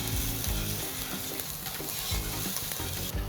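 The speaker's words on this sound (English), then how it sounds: "Then add your shallots and your garlic. Careful not to let them burn. Stir them frequently." Shallots and garlic fry in a pan with steady, continuous sizzling, punctuated by regular scraping and clattering as they are stirred; loud and close with no talking.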